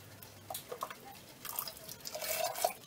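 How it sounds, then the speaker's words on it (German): Hot elderberry and apple jelly is ladled into a small pot, giving soft wet drips, splats and gentle clinks of the ladle, quiet and close with no voices. "mit dem Schöpflöffel in das Töpfchen hinein und dann umgefüllt."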